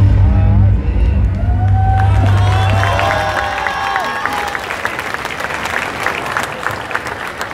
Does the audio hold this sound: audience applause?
yes